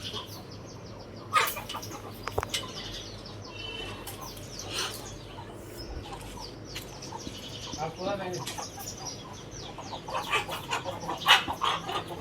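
Fighting-breed roosters and hens cluck and call around a farmyard, with scattered sharp crows and bird chirps over a low background hum.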